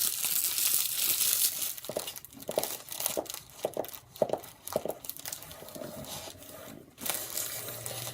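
Close crinkling and rustling of packaging being unwrapped, with irregular bursts of crackle and tearing, quiet and intimate.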